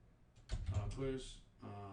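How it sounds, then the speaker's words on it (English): Computer keyboard typing during a coding session, a run of quick clicky keystrokes close up, partly mixed with a voice and background noise. "What am I typing?"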